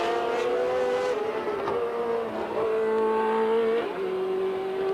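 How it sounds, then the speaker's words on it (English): Formula 1 race cars at the 1982 Brazilian Grand Prix, heard as a loud, sustained high-pitched engine scream with shifting revs and a passing car, heard on its own. "Carlos Reutemann is now right up with Keke Rosberg and is going to lap him."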